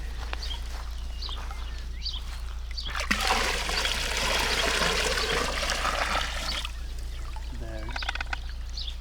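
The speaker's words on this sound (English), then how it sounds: "And then we just put it back in the water." Water pours back into a small garden pond in a steady, splashing rush lasting a few seconds, framed by quieter trickling before and after.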